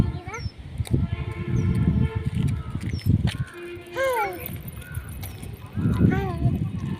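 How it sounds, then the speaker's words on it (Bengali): A flock of ducks outdoors gives repeated short nasal honks and quacks, scattered and moderately close, mixed with voices of an adult and someone talking over them. "কতগুলো হাঁস।"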